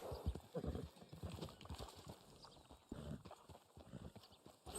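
Steady clip-clop of horse hooves from the video game Red Dead Online, a brisk rhythmic trot of many close hoofbeats continuing throughout under a soft, low background.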